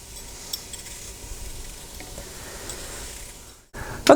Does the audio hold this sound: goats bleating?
no